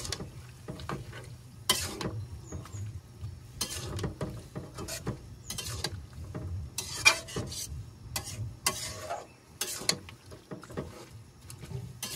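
A spoon stirring and mixing curry with spices in a pot in a village kitchen, giving irregular scraping and clattering strokes over a low background hum, quiet and close.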